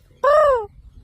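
A single harsh, drawn-out caw, a parrot mimicking a crow, loud and close against a quiet background.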